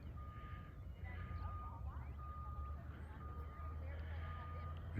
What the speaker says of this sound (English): they have that huge forklift with big old tires that can get up anything